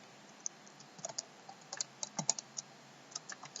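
Typing on a computer keyboard, with irregular quick clicks of keys, some in short clusters, close but faint against a quiet background.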